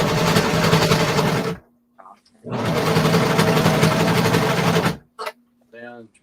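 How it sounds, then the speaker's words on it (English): A sewing machine runs in two sustained bursts of steady, loud motor whirring and needle chatter, separated by a pause with a low hum, followed by a brief voice at the end. "It's their sewing machine."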